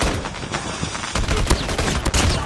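Rapid bursts of .50 GS pistol fire in Call of Duty Mobile, sharp overlapping shots in quick succession, loud and punchy across a couple of seconds.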